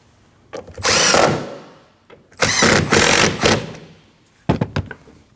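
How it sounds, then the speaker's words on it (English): A power tool drives two 8mm bolts into the rear bumper of a 2013-2019 Ford Escape: two long whirring bursts of about a second each, followed by several short sharp tool blips, loud and close. "Now install your 2 8mm bolts. And tighten them."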